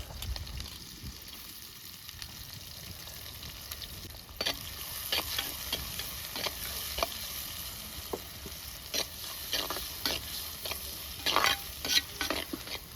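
Onions fry and sizzle in a clay pot for a village-style chicken curry, with a steady crackling bed and repeated scraping stirs that grow louder and more frequent in the second half.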